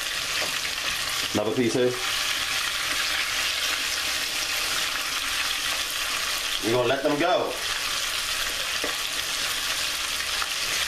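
Pieces of buttermilk-marinated chicken fry in hot oil with a loud, constant hissing sizzle, while someone speaks briefly twice over it.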